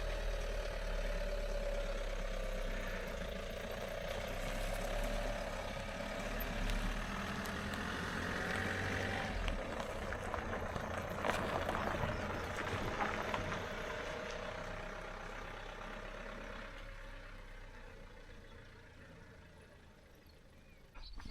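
A camper van engine idles on a quiet country road, then rumbles and pulls away, its low steady drone rising before fading gradually into the distance, ending with a sudden close knock.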